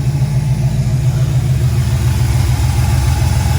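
Buick 350 V8 running in a 1972 Buick Skylark with a rattle, a loud, steady, close-up deep rumble with a throbbing pulse, continuous throughout.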